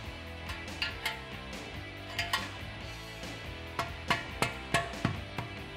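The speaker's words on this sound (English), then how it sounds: "I'm gonna grab one of the smaller clamps and insert it over the muffler outlet." A metal exhaust clamp is fitted over the muffler outlet on a V8 Ford F150, giving faint, scattered metallic clinks and taps that cluster into a quick run of knocks near the end.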